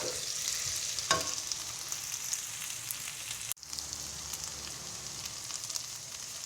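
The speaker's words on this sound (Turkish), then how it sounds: "Bunu da bu şekilde 1-2 dakika kavurmak istiyorum." Vegetables and potatoes sautéing in a pan for a fresh barbunya bean dish, a steady close sizzle with occasional stirring scrapes and a brief clatter midway.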